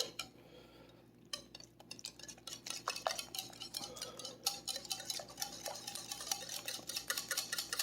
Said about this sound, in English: you want to mix this until everything's really well combined